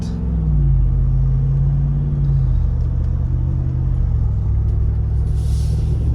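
A 2021 Jeep Wrangler with the Hemi 392 engine rumbles loudly and steadily from inside the cabin, its deep drone dropping in pitch as the transmission shifts up through the gears.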